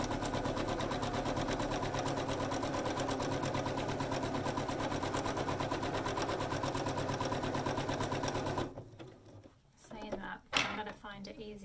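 A sewing machine runs steadily at close range, a fast, even run of stitching with no pause for about nine seconds, then stops; a few soft handling noises and a quiet voice follow.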